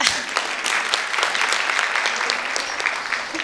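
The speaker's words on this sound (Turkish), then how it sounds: "Bu adama bir alkış gelsin bence." An audience at a relationship and marriage counselling training session breaks into a sustained round of applause, steady and fairly loud throughout with no talking over it.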